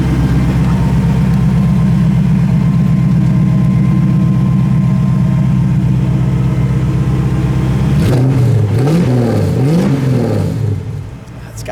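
A 1972 Chevrolet Nova engine idles with a deep, steady rumble, then revs a few times in rising and falling bursts before settling.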